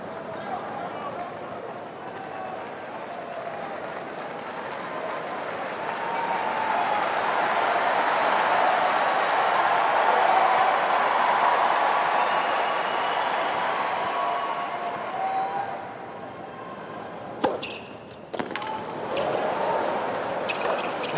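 A tennis crowd at the US Open women's semifinal swells into sustained applause and cheering, building to a loud roar before fading, with a few sharp louder bursts near the end.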